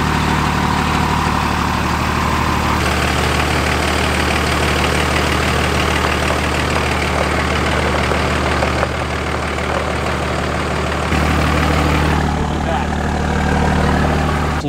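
A 600+ hp Cummins diesel truck engine with a stage 5 transmission idles with a deep, steady rumble and faint knock, shifting in pitch near the end as it revs slightly.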